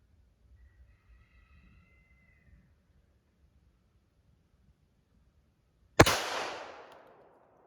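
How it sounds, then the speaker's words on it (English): A single loud, close gunshot from a Rock Island 1911 .45 ACP pistol during an accuracy test, fired after a quiet stretch and trailing off in a short decaying echo. "2 more shots, same left side target."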